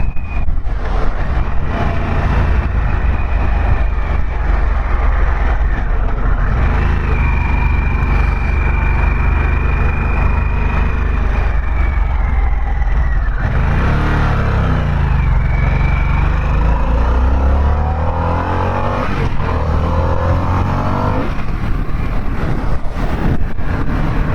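A 2021 Harley-Davidson Sportster S motorcycle is ridden with a loud, continuous engine drone rising and falling through gear changes, heavily mixed with wind rush over the microphone.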